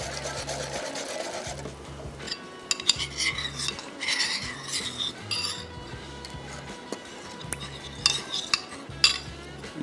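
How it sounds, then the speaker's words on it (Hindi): Cornflour being stirred into fish soup in a pot, with a utensil scraping and clinking against the metal in a busy, continuous rhythm that swells and fades through the stretch, no talking over it. "खूब अच्छी तरीके से मिक्स कर दिए।"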